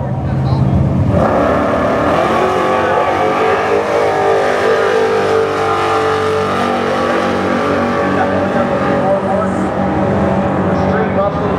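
Mustang Precision Turbo Pro Mod drag racing car roaring loud and close with sustained high-revving engine noise, a commentator talking over it throughout.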